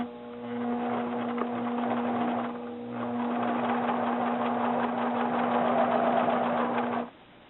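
A sewing machine runs a straight stitch on a jacket at stitch length 3.5 with the needle centered, whirring steadily with a constant motor hum, pausing briefly before continuing, then stopping abruptly.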